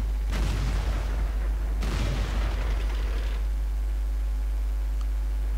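Tank cannon shots from the World of Tanks video game, fired by an ISU-152 tank destroyer: two heavy booming blasts about 1.5 seconds apart, each trailing off into a low rumble over a steady engine drone.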